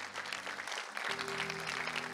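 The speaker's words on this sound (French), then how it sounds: "Merci d'applaudir." An audience at a children's show applauding, a moderate patter of clapping over a low hum, with a steady tonal drone coming in partway through.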